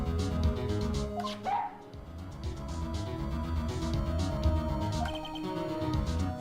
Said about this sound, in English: He's a canine police dog, still in training.